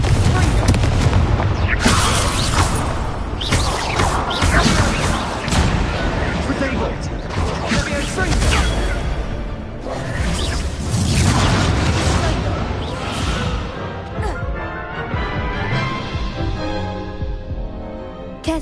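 Confringo blasting-spell explosions in Hogwarts Legacy burst as a rapid series of loud booms and crackling blasts, dense for about fourteen seconds before tapering into fading rumble.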